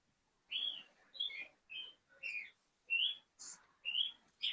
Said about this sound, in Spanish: a los pajaritos que suenan detrás tuyo